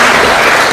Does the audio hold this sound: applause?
yes